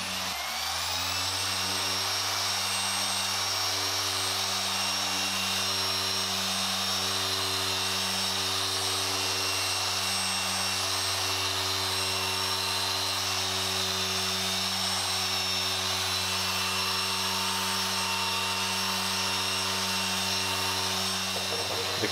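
A machine polisher at speed setting 6 cuts heavily oxidized headlights on a Mitsubishi Evo 8 with compound, a steady whining drone with a slight wavering hum, continuous and close throughout.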